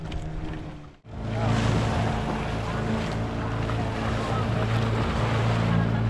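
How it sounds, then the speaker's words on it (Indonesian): Big ocean waves slosh and crash around a fishing boat offshore during slow-pitch jigging for skipjack tuna, with steady wind and a low engine drone running throughout after a brief dropout. "Ombak gelombang besar,"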